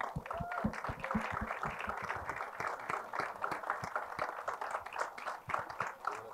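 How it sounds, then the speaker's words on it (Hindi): Crowd at a film trailer launch event applauds with irregular, fairly close hand claps, scattered and sustained across the clip. "give them all a big round of applause"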